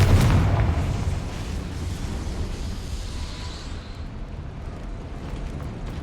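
Confringo spell blast in the Hogwarts Legacy video game: a loud explosive boom at the start, followed by a long rumbling decay and hiss that fades over several seconds.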